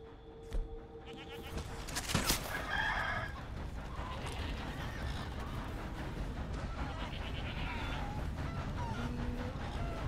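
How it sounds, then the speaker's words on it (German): Chickens cluck and a rooster crows in the video game Red Dead Redemption 2, with bleating farm animals and a dense outdoor ambience of overlapping calls throughout, moderately loud. "Ist hier ein Hähnchen."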